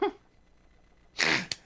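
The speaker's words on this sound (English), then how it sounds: "They heard you sneeze." A single sharp sneeze bursts out close to the microphone, a loud explosive blast followed by a short trailing catch, preceded by a brief faint sound and quiet.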